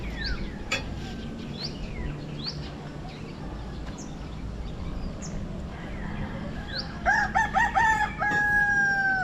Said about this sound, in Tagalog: Ang manok ni San Pedro.